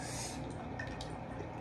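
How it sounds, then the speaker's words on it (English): Water splashes and drips in a bathroom sink as a mouth is rinsed after tooth brushing, a steady close wet patter with small gurgles and no talking. "I'm gonna rinse my mouth off."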